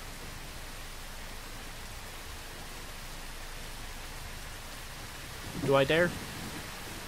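Heavy rain in the puppet game No Strings Attached, a steady, loud hiss that fills the whole scene, with someone speaking briefly over it near the end.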